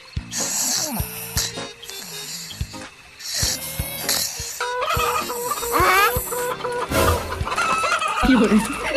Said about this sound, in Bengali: এত রাতে মুরগি চিল্লাচ্ছে কেন?